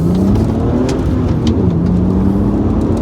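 BMW Z4 3.0 with the M54 engine accelerating hard in first gear, a continuous rising rev that climbs steadily, heard from inside the car at close range with no voices.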